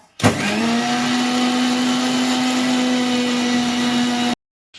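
Electric blender grinding water apple with sugar, two cardamom pods and cold water: a sudden start into a loud, steady high whine that runs for about four seconds and then cuts off abruptly.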